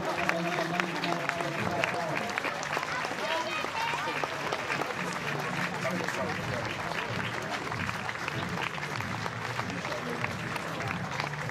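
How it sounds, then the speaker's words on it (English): A rugby match crowd at Millbrae applauds during an Ayrshire Bulls versus Heriot's game, sustained distant clapping throughout with a commentator talking over it. "And the applause will ring around Millbrae for Charlie Jupp."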